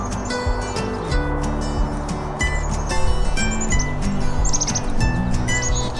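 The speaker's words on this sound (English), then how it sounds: "the black-capped chickadee." Black-capped chickadee calling at a backyard birding spot, repeated high clear whistled notes and short chirps over a steady low engine-like hum, with other bird sounds mixed in nearby.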